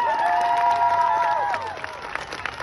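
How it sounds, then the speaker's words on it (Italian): A crowd at a May Day rally in Padova claps and cheers, with raised voices and whoops over the applause, which fades to scattered claps. "Un grosso applauso."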